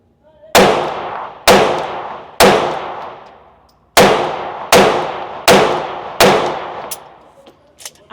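Seven sharp Glock 43x pistol shots crack one by one at a slow, slightly uneven pace, each loud close report decaying quickly with a gap in the middle.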